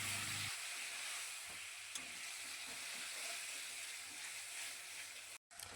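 Potatoes fry with spices and a splash of water for an egg masala, a steady broad sizzle and hiss running throughout, fairly quiet, with one brief dropout near the end.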